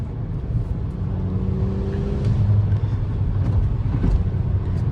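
Volkswagen GLI Fahrenheit edition with a 2-liter turbo FSI engine and an exhaust leak idles nearby with a steady, loud low rumble. A faint airy hiss sits in the background.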